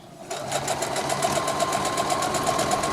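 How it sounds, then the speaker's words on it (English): A sewing machine runs in a rapid, steady stitching rhythm, sewing the top edge and straps of a homemade UTV windscreen, loud and close for about three seconds after a brief quiet start. "So now we're sewing in the top edge."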